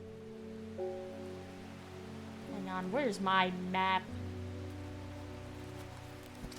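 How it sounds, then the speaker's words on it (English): Steady rain hisses throughout the video game Strange Horticulture, a soft, even wash beneath sustained musical tones, while a person talks briefly over it. "The rain sounds nice."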